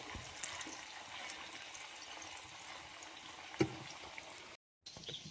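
A quiet, steady sizzle and crackle of salted water hitting hot frying oil on a wood-fired stove while making jackfruit chips, with a few sharper pops, then a brief cut to silence near the end.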